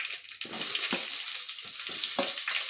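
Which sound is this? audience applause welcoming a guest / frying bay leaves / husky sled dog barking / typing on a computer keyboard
frying bay leaves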